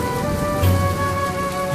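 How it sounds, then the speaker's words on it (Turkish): Rain falling in a steady, even hiss with a faint low rumble underneath, mixed with a sustained musical tone. "Bu yağmurun sesi sana bir şeyleri hatırlatıyor mu?"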